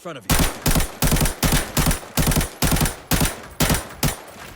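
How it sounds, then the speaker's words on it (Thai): Rapid automatic gunfire from the Arena Breakout video game, played on an iPad Pro: loud, evenly spaced bursts of shots, roughly ten in quick succession, with no talk over them. "ลองยิงนะฮะ"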